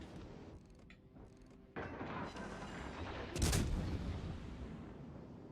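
Naval broadside gunfire from warships thunders in the game World of Warships Legends. A heavy boom lands midway and rumbles on after it, over a mechanical rattle and lesser blasts.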